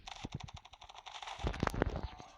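Rapid automatic gunfire from a new weapon in the shooter game Standoff, a fast rhythmic burst followed by heavier, louder shots, close and punchy.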